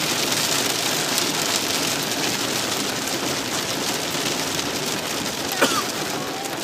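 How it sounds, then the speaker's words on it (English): Steady rain falls on a surface, a dense, even hiss that stays loud throughout, with one brief sharper tap or drip near the end and no talking. "That's the sound of the rain."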